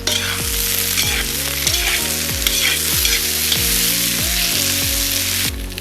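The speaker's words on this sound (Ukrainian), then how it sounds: "Картопля почала смажитися. Гарно все перемішую." Steady loud sizzling of potatoes frying in a kazan with repeated scraping strokes as they are stirred, close up and continuous.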